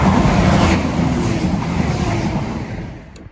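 A Nottingham to Cardiff passenger train pulls away from Beeston station, giving a loud, steady low rumble with a broadband engine and wheel roar that eases slightly toward the end, with no talk over it.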